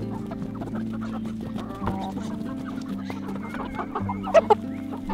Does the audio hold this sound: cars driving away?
no